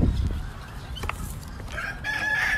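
A rooster crows loudly and close by, followed by chickens clucking, with a faint murmur of background noise.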